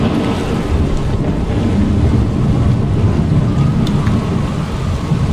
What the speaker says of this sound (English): I'm sorry it's noisy, but these storms can get kind of vicious